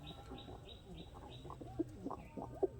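Giribaz pigeons in a village setting give soft, wavering coos in short repeated bursts, faint and close, with a few chirpy notes and light background noise.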